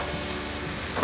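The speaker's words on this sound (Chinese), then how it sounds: "快速翻炒" Tomatoes and yellow bell pepper stir-fried in a little oil in a flat pan, a steady close sizzle with scraping stirs running throughout, no talking.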